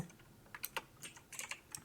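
Computer keyboard typing up close, a short burst of quick, uneven key clicks in two small clusters, quiet and alone with no talking.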